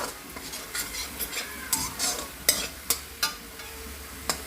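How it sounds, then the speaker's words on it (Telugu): Chicken fries in a pan while a spatula stirs it, giving rhythmic scraping strokes and sharp metallic knocks over a steady close sizzle, with no talking. "ఫ్రై అవుతుంది ఇంకొంచెం."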